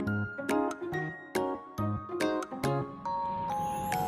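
Bright chiming notification bell dings, a quick sequence of clear tonal strikes with ringing decay, ending in a sustained shimmering tone, loud and alone.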